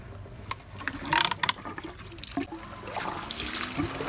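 Water rushes and trickles through a Hayward Pro Grid DE pool filter during a rinse cycle, with splashing bursts and mechanical clunks over a steady flow.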